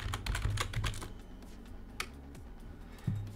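A computer keyboard is typed on at a Windows PC, with a quick burst of keystrokes at first and then a few isolated clicks, close and fairly quiet.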